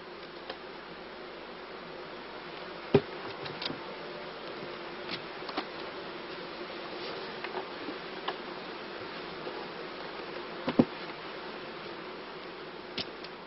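Honey bees from a shook swarm buzz as a steady, faint drone, with occasional brief ticks and clicks scattered throughout.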